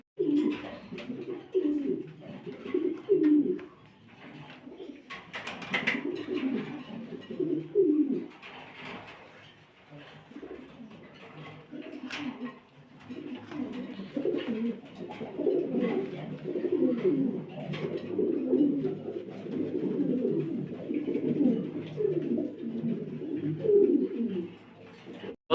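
Caged pigeons at a pigeon farm coo continuously, a dense, close run of soft throaty calls from several birds overlapping for the whole stretch, alone without talk.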